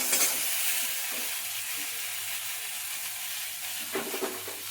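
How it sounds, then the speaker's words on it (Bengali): Winter vegetables hit hot oil with fried onion in a kadai, giving a steady broad sizzle with a few louder bursts of crackle and stirring clatter near the start and again toward the end. "এবার সবজিগুলো দিয়ে দিচ্ছি"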